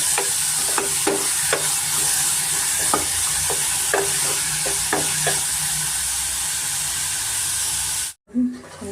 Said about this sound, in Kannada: ಸ್ವಲ್ಪ ಎಣ್ಣೆ ನಾವು ಫ್ರೈ ಮಾಡೋಣ